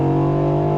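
Mercedes-AMG GT, a rear-wheel-drive car, floored in first gear: a loud, steady engine drone with strong low tones, heard up close and alone for under a second.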